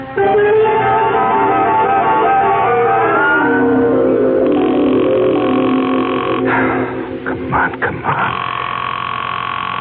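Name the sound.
telephone being dialed, dial tone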